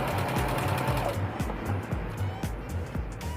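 A sewing machine stitching a button onto fabric runs steadily at close range, its needle striking in a quick, even rhythm of distinct thumps over a continuous motor hum.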